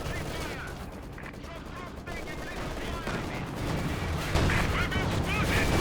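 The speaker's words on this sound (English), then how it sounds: "Look at that flak panzer go." Flak panzer firing rapid bursts in Company of Heroes 2, a dense stream of gunfire and explosions in a busy real-time strategy battle, growing louder toward the end with some game speech mixed in.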